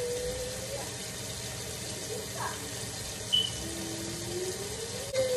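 A cup of water pours into a mixing bowl of cupcake batter with eggs, giving a running, splashing sound under quiet talk, with a few small clinks.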